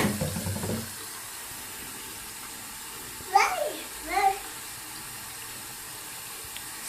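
A sink tap runs steadily while a toddler's hands are washed, producing a continuous broadband hiss with a child's brief high vocal chirps over it.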